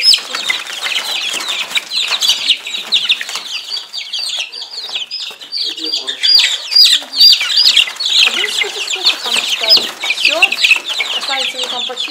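A poultry yard with a rooster and hens, clucking steadily and overlapping throughout, with scattered wing flaps. A person speaks now and then under the birds.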